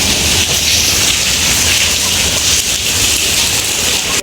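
Rain falls at night outdoors, a loud, even rushing hiss that runs unbroken from start to finish with no voices.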